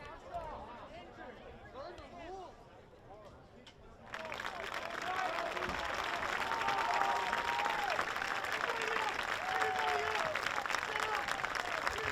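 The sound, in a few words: stadium crowd applauding at a boys lacrosse final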